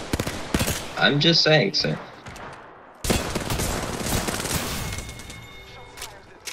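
Bursts of gunfire from Apex Legends combat, a rapid volley early on and dense shooting that breaks out again midway and runs under scattered game noise, with someone speaking briefly over it.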